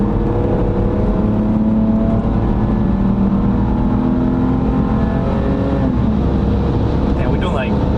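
A BMW wagon on fresh Cooper tires cruises down the road, with a steady, loud engine and road drone filling the cabin and no pauses.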